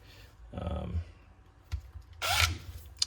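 A Snap-on 14.4 V cordless power tool gives two short whirring bursts close up, separated by a sharp click, in an otherwise quiet room.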